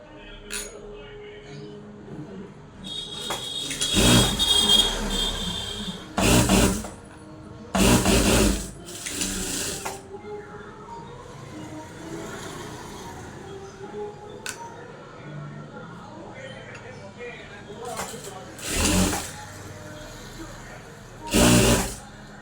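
A sewing machine stitches a blouse lining in short mechanical bursts, several separate runs of loud, close whirring with quiet pauses of handling in between.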